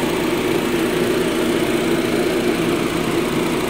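A 2009 Honda Jazz S manual idling smoothly, a steady close engine hum with an even low rumble and no changes in pitch throughout.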